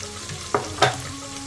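Onion tempering fries in a pan for a puffed rice snack, a continuous close sizzle broken by two sharp bursts from stirring.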